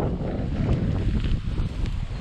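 Heavy wind rushing over motorcycle riders' helmets on an off-road trail through Slovenia, a steady low buffeting roar with surging gusts, close and loud with no voices.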